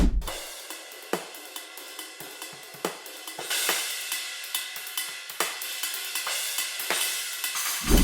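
Dry drum playing led by steady hi-hat ticks and cymbal wash, with occasional low thumps underneath; a loose groove, no talking.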